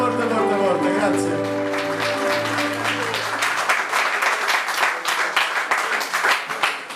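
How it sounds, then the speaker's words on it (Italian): Audience applause at an Italian music show, rising broadly after music and a voice fade, steady dense clapping filling the room for several seconds. "fate un applauso forte"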